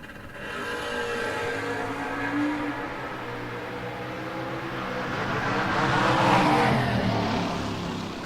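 A Pontiac Firebird and a Chevrolet Camaro at a no-box drag race staging at the line, engines revving and blipping the throttle in a sustained, rising and falling roar that swells louder toward the end.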